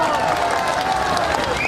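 Audience applause, a dense, steady wash of clapping from a crowd, loud and continuous over the short span.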